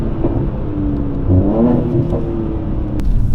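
A Mercedes C43 AMG 3-litre engine, 433 PS, with a loud stock exhaust, revs hard, its pitch climbing and then easing back, with a steady mechanical roar underneath.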